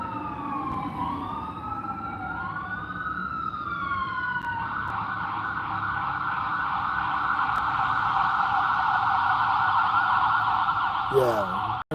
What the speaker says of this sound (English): I could be so mad if you came with that loud ass siren